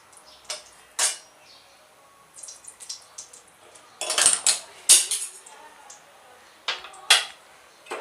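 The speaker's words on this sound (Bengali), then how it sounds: "আমি এই উপকরণগুলো রোস্ট করে নেব। এর মধ্যে আছে কাজু, মগজদানা, আর আছে গোটা গরম মশলা" Cashews, melon seeds and whole spices including black cardamom stirred in a little ghee in a pan, heard as scattered metallic clinks and scrapes of a spoon against the pan, close by with gaps of quiet between.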